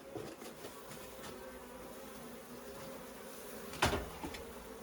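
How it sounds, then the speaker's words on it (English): Honey bees buzz in a steady, fairly faint drone around an opened hive during an inspection, with a sharper close buzz as one flies near the microphone late on. "The bees aren't very happy right now, to be honest."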